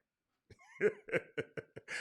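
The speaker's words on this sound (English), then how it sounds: "Let me cough on that one." After a brief silence, someone nearby lets out a short series of raspy coughs in quick, uneven bursts, fairly quiet overall.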